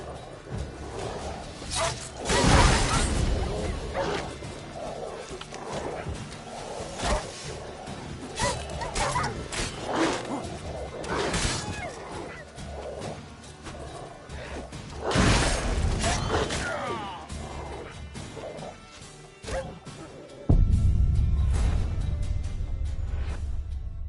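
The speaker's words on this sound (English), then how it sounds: "These dogs been a problem for a while now?" Dogs bark and yip in The Witcher 3: Wild Hunt, scattered barks mixed with game sounds, clatter and a heavy low rumble, with character voices speaking at times.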